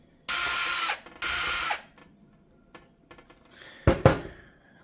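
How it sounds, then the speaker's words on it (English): A power screwdriver backs screws out of an Ecovacs Deebot 950 robot vacuum in two close, loud whirring bursts, followed by faint ticks and a short clatter of parts. "We remove these two screws."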